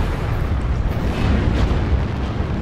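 Weapon fire slamming into a player's mech in MechWarrior Online, a loud, dense, continuous rumbling barrage of booming impacts with no gaps, heard up close.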